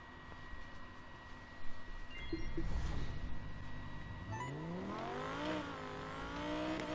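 Lamborghini engine racing in the video game Need for Speed Heat, a steady loud drone with rising revs around the middle and a climbing pitch sweep near the end, no talk.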